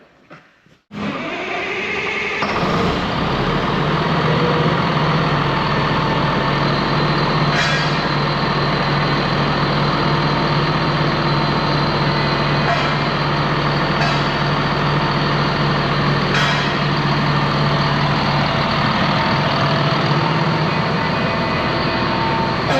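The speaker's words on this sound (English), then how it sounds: "we're gonna fire this thing up, let her warm up" A low-hour ex-US Army Caterpillar D6R bulldozer fires up and settles into a loud, steady diesel idle while warming up, close by, with occasional faint clanks over the continuous rumble.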